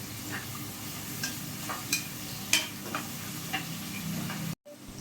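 Chopped onion sizzles softly in a pan for green chicken, with intermittent scraping clicks of a spoon stirring it, fairly quiet and close, ending in a brief cut to silence.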